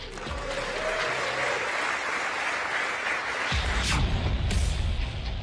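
US lawmakers at a joint session of Congress applaud India's Prime Minister Modi in a large chamber, a steady, dense wash of clapping that holds throughout, with a low rumble of the crowd beneath it.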